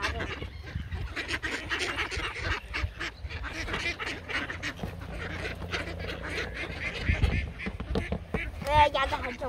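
Ducks being fed noodles quack and honk repeatedly at close range, their calls coming in irregular bursts mixed with people chatting nearby.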